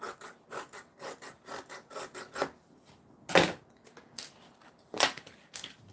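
Scissors trim excess fabric from the sewn bottom of a bag with a rhythmic run of crisp snips. A couple of louder, sharper cuts come near the end, close up and with no speech.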